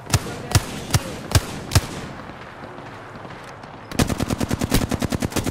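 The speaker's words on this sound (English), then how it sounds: "The enemies are shooting at me" Gunfire in the Apex Legends shooter game: four evenly spaced loud single shots, a short lull, then a rapid, sharp automatic burst of closely repeated cracks.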